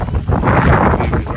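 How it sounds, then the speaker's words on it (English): Strong wind gusts during Hurricane Ida buffet the microphone in a steady, loud broadband roar that swells and eases, with rustling and rain-wet outdoor noise close by. "Wind still blowing, but not as bad as yesterday."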